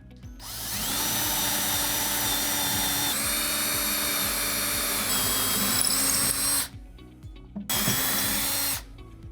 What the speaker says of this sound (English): Now I'm going to drill these holes and we'll put it back in.